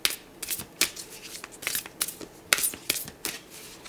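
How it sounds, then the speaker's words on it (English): Tarot cards are shuffled in quick, crisp riffles, a dozen or so sharp bursts in an uneven rhythm, close by. "Let's do one more shuffle."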